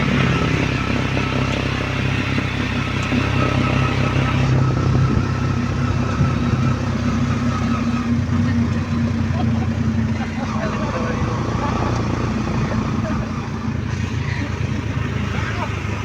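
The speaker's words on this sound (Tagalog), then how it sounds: "Manakay na kami sa motor." Motorcycle engine droning steadily as several riders travel together, with continuous road rumble and wind throughout and people chatting over it.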